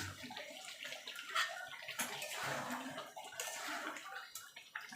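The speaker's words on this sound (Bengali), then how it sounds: "এবার আমি প্রেসার কুকারে ঢেলে দেবো।" Chicken curry with papaya and potatoes is tipped into a large pressure cooker, giving a continuous sloshing, splashing pour with wet gurgles throughout, close and fairly quiet, with no talking.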